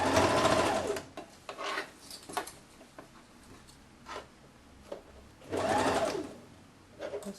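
A sewing machine runs a 1 cm seam on a women's blouse with a Peter Pan collar in two short bursts of rapid stitching, separated by quieter handling clicks and rustles.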